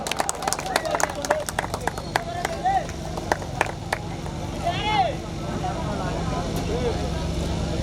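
Spectators at a village volleyball tournament felicitation clap in a scattered, irregular patter, with an announcer's amplified voice speaking over and between the claps.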